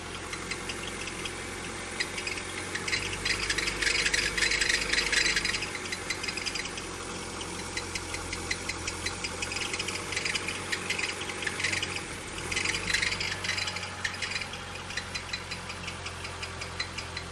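A 1983 BMW 320i E21 engine idles smoothly nearby, a steady low hum with a fine ticking texture and faint rasping valve noise, gently swelling and easing.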